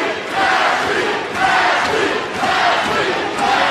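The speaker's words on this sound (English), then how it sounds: "They're all chanting for Ashlee Evans-Smith as she throws a wicked elbow." An arena crowd at a female MMA bout at the Bank United Center in Miami chants in loud, rhythmic surges that rise and fall every second or so, filling the space.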